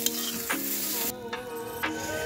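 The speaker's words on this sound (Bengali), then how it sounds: "বন্ধুরা, আমাদের বেগুন ভাজা হয়ে গেছে, এবার এক এক করে সব তুলে নেব" Eggplant slices fry in hot oil in a pan, a loud continuous close sizzle broken by a few sharp stirring scrapes.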